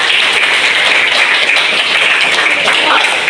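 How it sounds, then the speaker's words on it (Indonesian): Class of students clapping hands in a classroom, a brief dense round of applause at steady loudness, close and continuous, with voices mixed in. "Tepuk tangan dulu ya"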